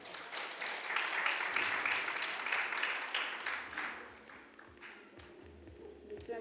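An audience at a colour olympiad event in Veliko Tarnovo applauds a journalist with dense, lively clapping. It fades after about four seconds, leaving quieter scattered noise and a few low thumps.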